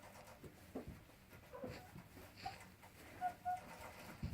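Bovans Brown laying hens about nineteen weeks old giving soft, low clucks and murmurs, with a couple of faint higher chirps, quiet and intermittent against a dim background.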